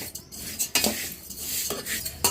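A spoon scraping and stirring vermicelli roasting in a metal pan, repeated clinks and scrapes in an irregular rhythm, close and clear.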